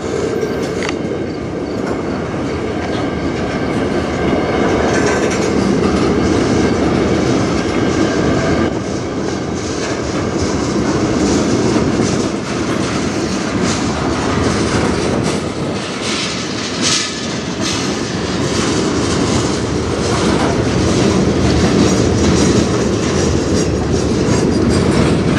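A CN freight train hauling gondola cars, some brand new, rolls steadily past up close, with continuous loud rumble, wheel clatter and occasional squeal and no voices, sustained throughout.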